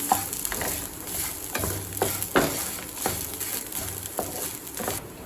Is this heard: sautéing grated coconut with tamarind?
yes